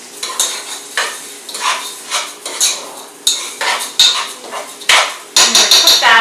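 Rice and beans dry roasting with spices in a pan while cooking kitchari, heard as repeated scraping and stirring strokes of a utensil against the pan, close and fairly loud, in an irregular rhythm with no talking.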